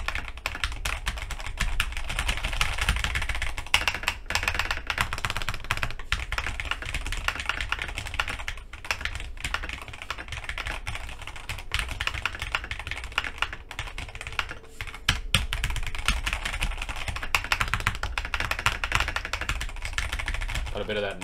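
Continuous rapid typing on a DrunkDeer A75 mechanical keyboard, close and steady clacking keystrokes with brief pauses, recorded with high microphone gain.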